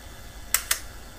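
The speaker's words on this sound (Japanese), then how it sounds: "これ離しちゃうとバックシャッターも落ちてしまいます" A Hasselblad 500C/M medium-format film camera fitted with a Carl Zeiss Planar C 80mm f/2.8 lens releases its back shutter in two crisp mechanical clacks in quick succession, close and isolated against quiet room tone.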